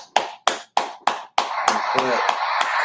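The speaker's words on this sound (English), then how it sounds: "Let's clap it up for the ancestors" A few sharp, evenly spaced claps ring out near and loud, then give way to a denser wash of crowd clapping with people talking over it, at a hip hop podcast gathering honoring ancestors.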